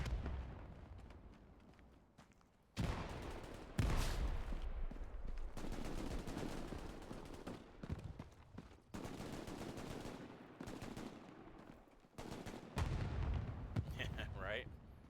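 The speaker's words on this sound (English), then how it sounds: "We the people lets the MG rip" Machine gun fire in the World War II shooter game Hell Let Loose, with loud sustained bursts and heavy gunfire rumbling in long stretches broken by brief pauses.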